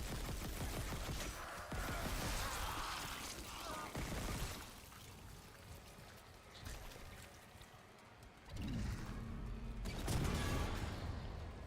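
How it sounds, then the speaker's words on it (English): Bursts of plasma rifle fire rattle out in Dead Space, coming in rapid volleys that drop to a quieter lull midway before another loud stretch of shooting. "I have to rely on the plasma rifle again."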